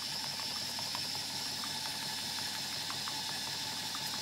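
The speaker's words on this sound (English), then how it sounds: "By now there was enough pressure to run the engine." A model steam engine chugs steadily with a soft, rapid rhythmic ticking over a continuous hiss from steam leaks, fairly quiet and without voices.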